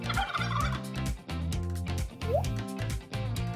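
A turkey gobbles repeatedly in short rhythmic bursts, loud and close, with a faint rising squeak partway through.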